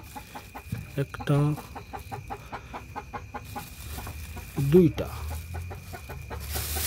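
Hens in a coop during egg collection give short clucks and a couple of louder squawks, close by, while a person talks and counts over the background hum.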